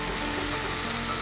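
Boiled chickpeas hit hot oil in a frying pan, giving a loud, dense, continuous sizzle with faint scraping and crackle throughout the brief moment.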